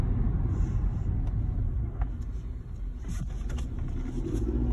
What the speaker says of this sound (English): Our turbo's kicking now.